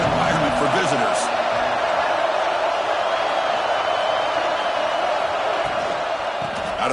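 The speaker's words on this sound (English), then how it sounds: "Listen to the crowd energy here in the early going." Stadium crowd noise from the college football video game NCAA Football 26, a steady loud roar filling the whole stretch in a hostile setting for the visiting team, with a commentator's voice running over it.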